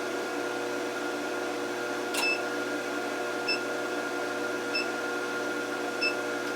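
An LH-15a induction heater warms 1/2 inch square steel stock, giving off a low, constant electrical hum with a few faint, evenly spaced ticks, and no one speaking.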